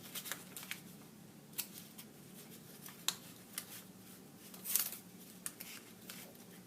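Scissors snip through paper for a kite in several separate, fairly faint cuts spaced irregularly over a quiet background.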